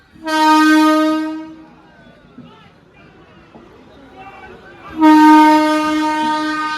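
A Sealdah local passenger train at Taherpur sounds two long, loud horn blasts with a quieter rumbling stretch and faint voices in between.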